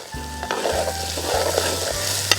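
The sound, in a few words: onion and green chilli sautéing in pan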